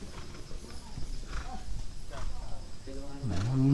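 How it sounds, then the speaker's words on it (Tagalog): Horse hooves clip-clop along a road as the animals pull a four-wheeled cart, a steady clatter under background noise, with a faint whinny or tonal sound near the end. "Ang mga kabayo, oh."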